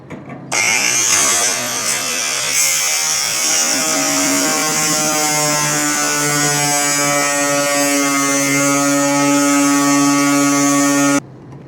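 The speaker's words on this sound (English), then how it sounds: "grinder." Power grinder working on a 1941 Chevy body during a chop and B-pillar rebuild, a loud continuous whine that steadily rises in pitch after starting, close up and alone until it cuts off.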